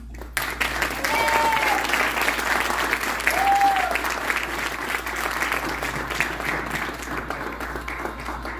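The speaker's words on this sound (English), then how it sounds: "please give it a rose applause" An audience at a speaking event breaks into sustained, loud applause after a talk on growth mindset, with the clapping rolling on evenly and a voice heard briefly over it.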